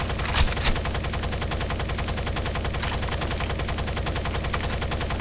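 Gunfire in the Rainbow Six: Las Vegas 2 video game during a terrorist hunt on a street map: a long, rapid, evenly spaced automatic burst, loud and close, with a couple of heavier shots near the start.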